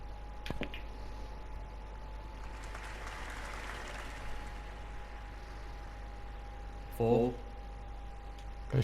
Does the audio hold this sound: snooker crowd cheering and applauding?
yes